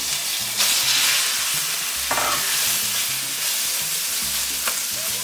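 Chicken searing in hot oil in a pan while a Peruvian pasta dish is cooked, a steady loud sizzle with occasional stirring scrapes and clinks, without talk.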